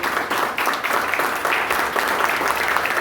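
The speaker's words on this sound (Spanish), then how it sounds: "Dele las palmas al Señor." A church congregation applauds in a steady, loud wash of clapping that fills the whole moment without a break.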